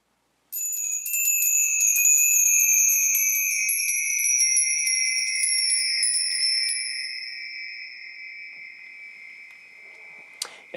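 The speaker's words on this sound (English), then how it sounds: "I mentioned these wind chimes, so I'll just play these so you can hear them" Microtonal wind chimes struck once and left to ring, giving a few sustained bright metallic tones with a slightly shimmering tremolo that slowly fade, near and clear with no talking.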